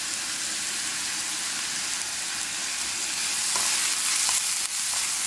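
Curry leaves and onions fry in a pan for duck roast, a dense, steady sizzle with the scrape of stirring and a few light clinks, close and continuous, with no talk.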